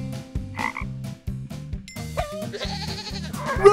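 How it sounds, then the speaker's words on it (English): A frog croaks against a bouncy, rhythmic music bed, with a few short croaking calls standing out over the repeating beat. "A frog."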